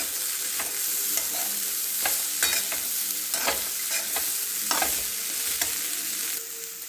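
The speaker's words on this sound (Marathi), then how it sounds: "एक टोमॅटो बारीक चिरलेला थोडेसे परतून घ्यावे" Finely chopped tomato sautéing in a pan for dadpe pohe, a continuous sizzle broken by repeated scraping strokes of a spoon, close and alone without talk.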